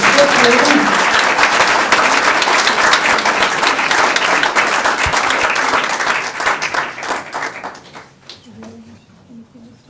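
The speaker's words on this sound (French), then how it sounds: "Je crois qu'on peut applaudir la princesse qui a fait le voyage." An indoor audience applauds loudly and steadily for an award presentation, the dense clapping holding for several seconds, then thinning and fading toward the end, with a few voices underneath.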